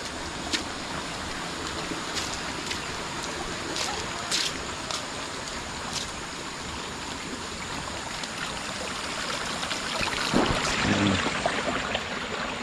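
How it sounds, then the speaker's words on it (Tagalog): Continuous flowing stream water fills the clip with a steady, close rushing wash and a few brief splashy bursts. "may tubig o masagana po ang tubig"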